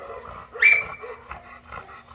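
A Rottweiler in a behaviour training session gives a short, loud growling bark near the middle, with lower rumbling and handling noise around it and no talk.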